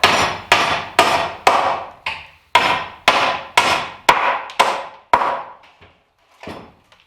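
Hammer strikes on old lumber as rusted nails are worked loose, about ten sharp hard whacks in an uneven rhythm, close and loud, tapering to a few lighter taps at the end.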